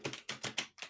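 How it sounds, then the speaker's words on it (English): Tarot cards are shuffled in quick bursts of crisp riffling flutters, close and clear with short gaps between, and nobody speaks. "As I'm shuffling the tarot,"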